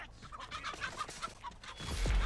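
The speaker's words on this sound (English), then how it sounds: "And the chicken perk's going off as well." Hens cluck in a quick, chattering series from the Chicken Grandpa perk in the Texas Chainsaw Massacre video game, with a low thump and rising rumble near the end.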